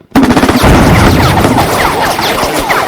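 Loud, rapid bursts of automatic gunfire and overlapping shots from opportunity fire in the tactical wargame Lock and Load Tactical, a dense sustained fusillade with booming impacts.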